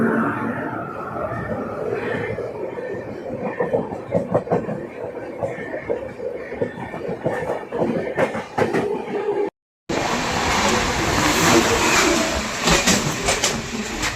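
An express train rumbles steadily alongside while overtaking the Shivganga train, a loud continuous rolling roar with faint clatter, then after a brief dropout a brighter, harsher rush of wind and rail noise.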